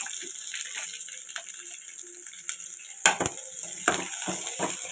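Onions frying in a pan for sambar, a steady soft sizzle throughout with a few louder clattering stirs and scrapes toward the end, close and fairly quiet.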